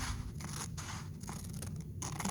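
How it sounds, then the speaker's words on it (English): Steady crisp snipping and rasping of scissors cutting through material, close up, continuous with no voices. "Scissors are not the best."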